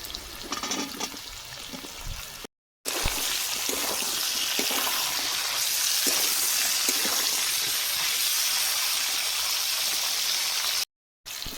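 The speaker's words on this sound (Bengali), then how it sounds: "ক্যাপসিকাম আর মটরশুঁটি ভেজে নেব" Capsicum and peas frying in a pan, giving a steady, loud hiss and sizzle that runs almost without a break. The sound cuts out twice for a moment.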